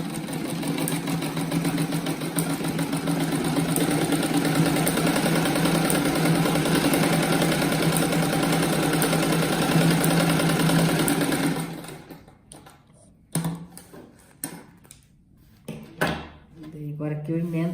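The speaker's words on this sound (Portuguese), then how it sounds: "Daí agora eu costuro na parte de cima aqui" A sewing machine stitches a 4-centimetre fabric strip onto a patchwork rug, running in a loud steady mechanical whir for about twelve seconds before stopping. A few handling clicks and thumps follow.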